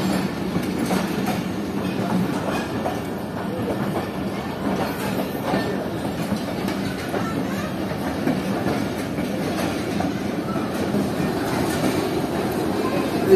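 A shunting locomotive moves coaches back and forth in a railway yard, giving a loud, continuous rumble of rolling wheels and clattering carriages that runs the whole time without a break.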